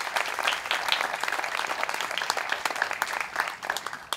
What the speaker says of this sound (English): I just want to give a round of applause to all of our mentors for the time that they spent.